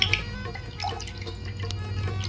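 A glass of water being poured during a chili-eating game, with soft splashing and dripping trickles over a low background hum, brief and close.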